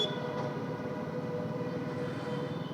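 Low, steady rumble of a metro train passing overhead during an early-morning motorcycle ride, broad and continuous throughout with no voices.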